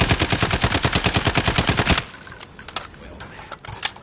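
A SCAR rifle in Call of Duty fires a rapid full-auto burst of evenly spaced, loud shots for about two seconds, then stops, leaving faint clicks and scattered game noise.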